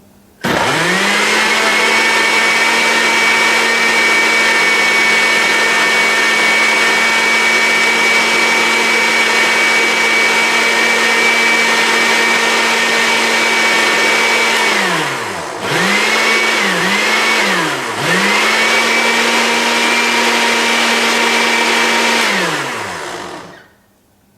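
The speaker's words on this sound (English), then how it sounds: "because a blender, this is not a quiet blender" A loud blender whirs steadily for about twenty seconds while making a smoothie, briefly dipping and surging a few times near the end before winding down.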